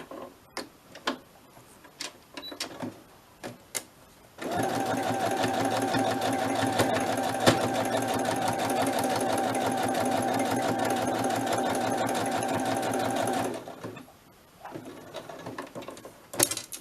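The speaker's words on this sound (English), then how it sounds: "let's just try and sew that on to there" A sewing machine stitches a soft spine journal in one continuous rapid mechanical run of about nine seconds, preceded and followed by scattered clicks and handling taps.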